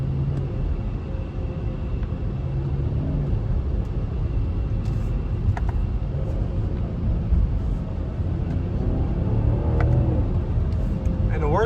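A BMW 540i LCI on the move, its engine sound partly piped through speakers, gives a low continuous rumble with road noise, steady and close inside the cabin, while a voice talks over it.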